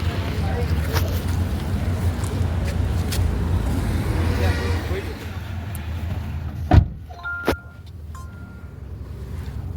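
A car pulling up on a road in Chennai near Marina Beach: a loud rumbling engine and road noise fill the first half, then ease off, followed by a couple of sharp knocks and quieter surroundings.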